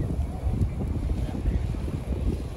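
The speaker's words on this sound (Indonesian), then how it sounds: "Angin kuat." Strong wind blows across a beach, buffeting the microphone with a continuous low, rumbling roar that stays fairly loud and unbroken throughout.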